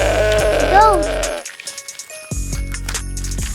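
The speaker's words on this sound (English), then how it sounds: "goat," A goat bleats twice, close and loud, each a wavering nasal cry, separated by a short quiet gap.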